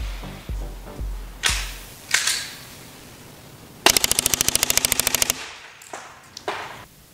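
A Smith & Wesson M&P 9 full-size airsoft gas blowback pistol fires loud, close single shots, then a rapid full-auto burst of about fifteen cracks, followed by a few more spaced shots.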